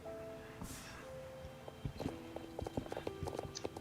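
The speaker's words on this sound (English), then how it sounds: "So this is my starter horse right here, Super Song." Horse hooves clip-clop in a quick, fairly close walking rhythm over quiet electronic music tones, with no talking, in the horse-riding video game Star Stable.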